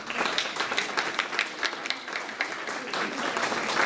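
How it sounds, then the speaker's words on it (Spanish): Audience clapping at a community association hall concert by a folk music ensemble, a moderately faint but steady patter of many hands with uneven bursts. "Aplausos para Iván, que nos va a contar la historia de este chamán."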